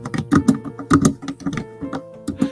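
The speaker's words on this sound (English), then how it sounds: "Someone's pounding on the keys." Heavy typing on a computer keyboard, keys pounded hard in quick irregular bursts of clacks, close and loud, with a faint steady hum underneath and no talking.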